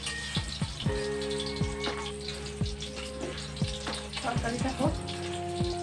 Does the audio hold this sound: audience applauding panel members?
no